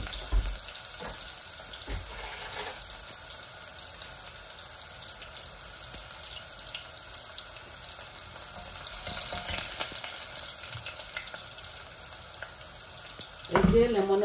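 Garlic frying alone in hot oil for a fish curry with cherry tomatoes, a steady moderate sizzle heard close up, with a brief clatter near the end.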